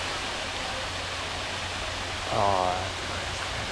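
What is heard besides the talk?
small waterfall on a hike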